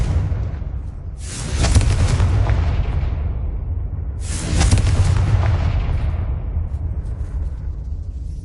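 Confringo fire-blast spell explosions in the Hogwarts Legacy video game, two loud booming blasts a few seconds apart, each with a deep rumbling decay, with no talking.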